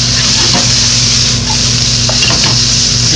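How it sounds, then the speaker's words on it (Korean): Bamboo shoots and shiitake mushrooms stir-fried in a wok make a loud, dense, continuous sizzle, with faint utensil scrapes and taps underneath and no clear voices. "죽순과 표고버섯이 조금 질기기 때문에 먼저 넣어서 볶아주는 거예요"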